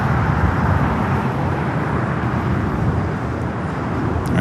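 A Finnair airliner taxis at LAX toward the north side gates of Tom Bradley terminal, giving a steady, loud broadband jet rumble and roar that holds level throughout.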